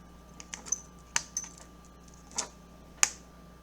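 A blade cuts flattened translucent polymer clay on a ceramic tile, giving sparse, sharp, light taps and clicks scattered irregularly over a quiet, steady background.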